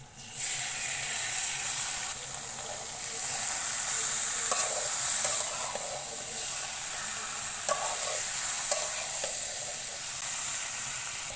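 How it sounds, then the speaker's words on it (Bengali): Marinated chicken sizzling in a pan with fried onion and green chilli, a steady loud frying hiss with occasional stirring scrapes and sputters throughout, no talking. "এভাবে যতক্ষণ পারবো সুন্দর করে ভেজে নিব"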